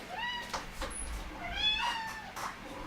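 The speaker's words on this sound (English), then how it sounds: "Cat's indecisive." A house cat meows several times in drawn-out, rising and falling calls, close and clear against a quiet indoor background.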